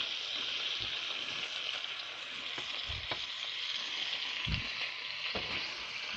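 Pork and vegetables fry steadily in a pan for Singapore noodles, a continuous close sizzle with a few soft stirring clicks and no voices.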